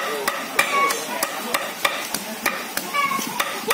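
Goat meat chopped with a cleaver to make filling for tiết canh, a Vietnamese blood pudding dish from the northwest highlands: about a dozen sharp, evenly spaced thuds on a board, fairly loud and close, with no talk.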